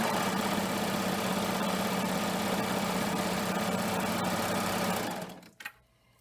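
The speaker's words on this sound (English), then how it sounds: "If I'm joining two pieces of a woven fabric together, I'll have my serger trim off a little bit." A Baby Lock serger stitches and trims the edge of woven fabric in a steady, fast, loud mechanical whir that runs close up for about five seconds and then stops.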